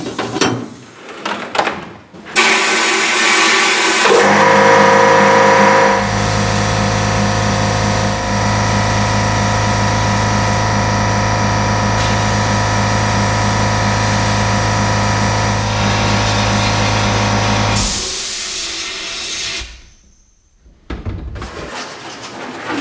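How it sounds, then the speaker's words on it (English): Scrap brake disc being blasted inside a shot blast cabinet, a loud continuous hissing roar with a steady mechanical hum, starting after a few clunks and cutting off near the end, followed by quieter handling noises. "I'm going to give this old scrap brake disc a go in the sandblaster"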